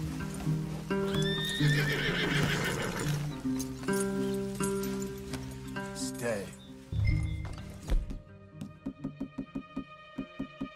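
Horses in Red Dead Redemption 2 whinny and snort over clopping hooves, followed by a run of evenly spaced hoofbeats near the end, with voices talking in places.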